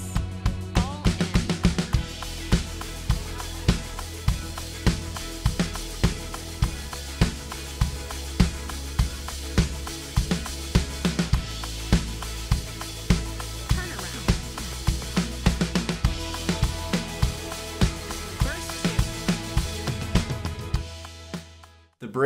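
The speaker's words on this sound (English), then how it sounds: "The chorus is really just a simple driving 16th note groove" A drum kit plays a driving 16th-note chorus groove in a worship song, with steady regular accents on every beat for over twenty seconds, loud and close with music underneath.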